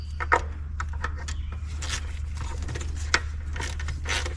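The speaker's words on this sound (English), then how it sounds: "Now we're going to torque this one here." Torque wrench tightening valve cover bolts on a Kia Soul engine, a series of quick light ratcheting clicks in short irregular bursts, close and fairly soft, with no talking.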